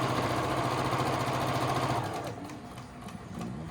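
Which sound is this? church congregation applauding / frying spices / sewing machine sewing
sewing machine sewing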